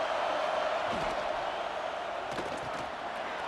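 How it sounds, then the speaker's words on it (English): Stadium crowd in EA Sports College Football 26 roaring to inspire the defense during a red zone stand: a dense, steady wash of cheering, loud and sustained, with brief voices and thumps poking through. "And here comes the noise. This crowd is trying to inspire this defense to make a big red zone stop."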